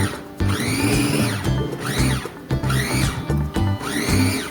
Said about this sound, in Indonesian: Di sini saya menggunakan hanya pisang ya, tanpa diberi air atau apapun. Tinggal dihaluskan seperti ini.